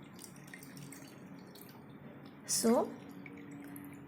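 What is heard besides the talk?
water being filled into a glass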